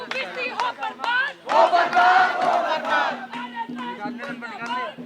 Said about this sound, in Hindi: लगातार यहाँ पे नारेबाजी चल रही है